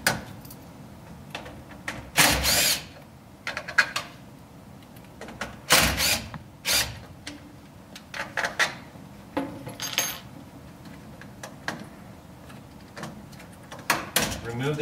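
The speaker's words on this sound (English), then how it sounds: "So to remove it, just go ahead and pull out the screws that are in the board." Screws are taken out of a terminal board in a centralized lighting control panel, with scattered sharp metallic clicks, scrapes and small clatters between pauses, and a person talking throughout.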